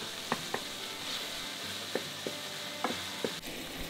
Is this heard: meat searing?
yes